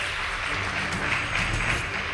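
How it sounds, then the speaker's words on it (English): Steady applause from a school audience after a girls' high school debate score is announced, a continuous dense wash of clapping at moderate loudness with no break. "Please give them a round of applause."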